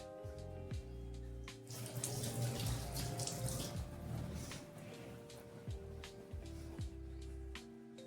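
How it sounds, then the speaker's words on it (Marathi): Hands are washed under a running kitchen tap between cooking steps: a steady, close rush of water runs throughout, shifting slightly as the hands move through the stream, with no voices. "हात धुवून घेते आणि पुरी भाजून घेते"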